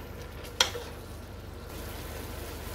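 Mutton for white korma browns in a pot with a low, steady sizzle, marked by a single sharp utensil tap early on.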